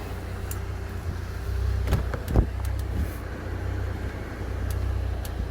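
A car drives down the road, a steady low engine and tyre drone holding throughout with a couple of faint clicks and bumps over it, heard from inside the cabin.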